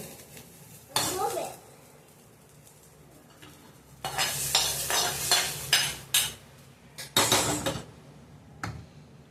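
Curry leaves stirred in a pan, with dry scraping and clinking of a utensil against metal in several loud bursts separated by quieter gaps, faint sizzling underneath.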